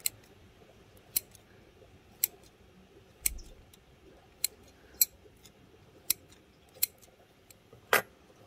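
Scissors trim the roots of an olive bonsai in a series of sharp, quiet snips, about ten spaced cuts a second or so apart, in a near-silent room with no talking.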